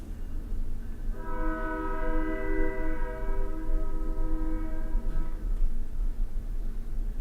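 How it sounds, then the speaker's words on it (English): A train passes close by near the railway tracks, sounding a loud sustained multi-tone horn for about four seconds over a steady rumble of wheels and cars that continues to the end. "We get them randomly because I live down by the tracks"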